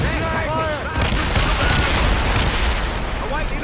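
Enemy naval cannon fire in Assassin's Creed Rogue rumbles in a loud, continuous barrage at sea, dense booms blending into a roar, with shouting voices and whistling projectiles over it.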